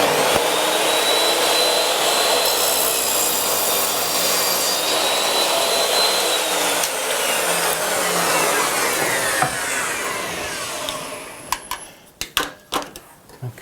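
A Triton Workcentre WCA201 set up as a panel saw cuts through wood with a loud, steady whining roar for about eleven seconds, then winds down into a few sharp clicks and knocks.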